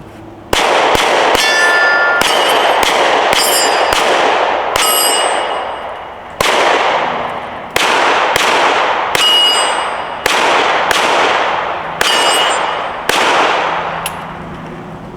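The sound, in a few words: Glock 43X pistol gunshots at shooting barricade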